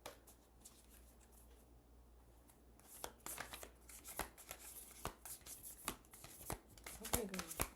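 A deck of oracle cards being shuffled, with soft riffling and repeated sharp card taps growing busier partway through, and a voice speaking over the shuffling.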